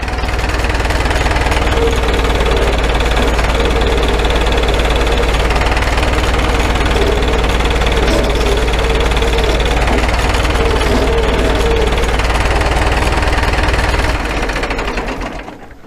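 A Cummins 4BT diesel engine in a Farmall M tractor runs continuously up close with a rough, knocking, uneven chug that sounds unhealthy, then winds down near the end.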